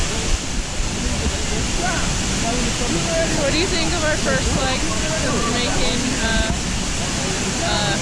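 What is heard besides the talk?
waterfall at Reach Falls, Jamaica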